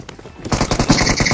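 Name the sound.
shotgun gunfire, from a battle royale video game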